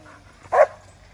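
A single short dog bark, loud and close, over quiet background hiss; the dog barks at a big black squirrel up a tree in a park.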